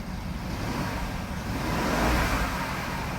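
BMW F02 750 ActiveHybrid engine revving under acceleration in a repair shop, a broad rushing roar that swells toward the middle and then eases slightly, close and steady with no voices.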